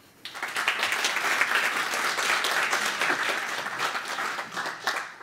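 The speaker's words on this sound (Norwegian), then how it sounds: "Varm applaus til han" Warm applause from an audience at a climate breakfast event welcoming a speaker, a dense, steady clapping that swells quickly and holds for several seconds before tapering, with faint voices underneath.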